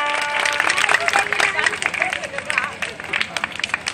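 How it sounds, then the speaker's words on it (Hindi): Clapping from a crowd at a Ramlila performance, scattered and uneven claps mixed with crowd murmur and a voice speaking over them, fairly close and moderately loud. "ताली लगाइए।"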